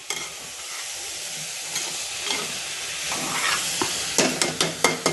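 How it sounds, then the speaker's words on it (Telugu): Rice pulao with coconut milk is stirred in a pot over steady sizzling, with utensil scrapes building into a run of sharp, rhythmic knocks toward the end, heard close and without speech. "కొంచెం జస్ట్ ఇవన్నీ కలిసేటట్టు పైకి కిందికి అనాలి అనేసి మనము కొబ్బరి పాలు వేసేయడమే"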